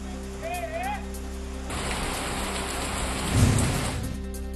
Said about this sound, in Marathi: यवतमाळमध्ये मुसळधार पाऊस